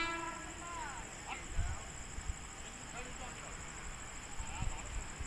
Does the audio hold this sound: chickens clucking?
no